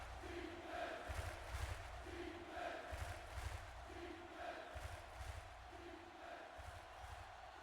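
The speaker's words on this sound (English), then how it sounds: "Home crowd trying to get behind the Trojans here" A home stadium crowd in a football video game roars and chants in rhythmic surges, a distant, swelling crowd noise that rises and falls in a regular repeating pattern.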